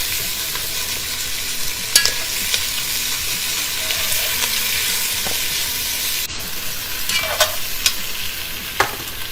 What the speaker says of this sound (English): Scrape up a little bit of that fond on the bottom.